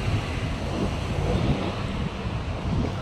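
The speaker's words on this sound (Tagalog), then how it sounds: "Buti lang yung hangin, mga lamig-lamig." Strong wind blowing outdoors on a hot walk, roaring steadily and loudly across the microphone as a continuous broadband rush with no voices.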